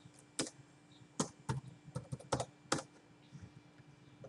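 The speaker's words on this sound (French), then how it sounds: "je vais taper mon nom d'usager" Username typed on a computer keyboard at a WordPress login, heard as a series of sharp, irregular key clicks in small bursts, close and fairly quiet over a faint background hum.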